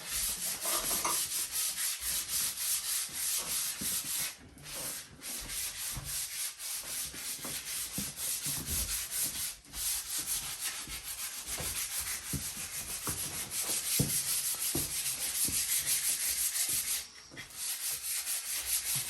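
A drill bores old wood out of the eye of a vintage Council Railsplitter double bit axe head, a steady close grinding rasp that runs on with a few brief pauses.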